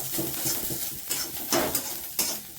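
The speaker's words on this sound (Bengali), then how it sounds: "কড়াই সুন্দর করে বন্ধ করবো" A few sharp metallic clanks of a lid settling onto a wok, spaced irregularly over a soft kitchen background.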